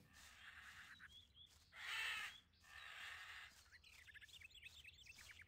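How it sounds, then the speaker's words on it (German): A raven in the video game Gothic II: Night of the Raven caws loudly several times in harsh, rasping bursts, followed by quicker, choppier croaks against a quiet background. "Was ein nerviger Rabe."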